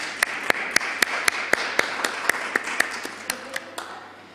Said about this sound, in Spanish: Le damos un aplauso entonces por la defensa de la norma